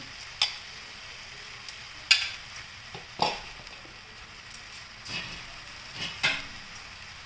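Eggplant slices frying in oil, a soft continuous sizzle with light scattered ticks and scraping stirs from a utensil against the pan.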